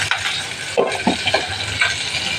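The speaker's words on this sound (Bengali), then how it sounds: "এদিকে ইলিশ মাছের মাথাটা ভাজি হচ্ছে এটা আরেকটু ভাজি হবে" A hilsa fish head fries in a pan with a steady sizzle under several short scraping, stirring knocks close by.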